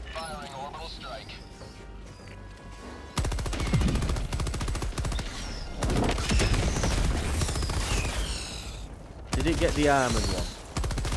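Rapid automatic gunfire and heavy blasts from an orbital strike in Helldivers 2 during a bug breach, loud bursts of fire and explosions alternating with quieter stretches while players talk over the battle.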